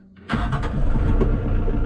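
Kioti DK40 SE tractor's diesel engine cranks over, then catches and runs with a steady, loud, close rumble after a brief quiet start.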